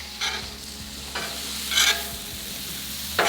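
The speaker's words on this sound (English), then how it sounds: "So we're gonna give this a little toss, let it brown up a little bit, and start to cook." Potatoes fry in butter and olive oil on a Blackstone griddle for a maple sausage cranberry hash, a loud steady sizzle broken by a few bursts of tossing and scraping, close and with no talking.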